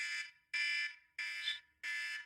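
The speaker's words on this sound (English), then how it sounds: "when we hear the alarm go off, which will sound something like this" Timer alarm going off in four evenly spaced, loud electronic beeping bursts, each about half a second long with short gaps, heard alone.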